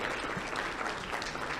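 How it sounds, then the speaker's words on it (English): Brief burst of audience applause at a business conference's opening session, dense steady clapping heard at a distance and fairly quiet. "I think that deserves"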